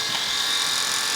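A vacuum pump draws air out of a small dome, giving a steady high whirring hum that holds unchanged and without pause.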